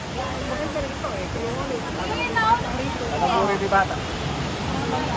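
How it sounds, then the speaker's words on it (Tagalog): Stream water flowing steadily outdoors near a creek, a continuous broadband rush with some surges, heard under voices talking. "naririnig ko yung agos ng tubig"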